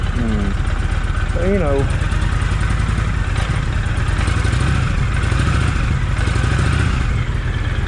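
A Honda VTX 1300 motorcycle with a freshly rebuilt carburetor idles steadily up close, its low engine rumble running continuously under a voice.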